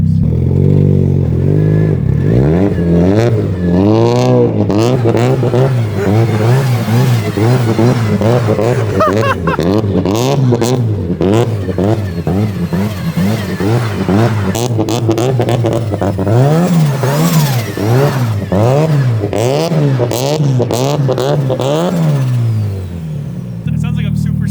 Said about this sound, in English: I'm gonna try donuts in reverse.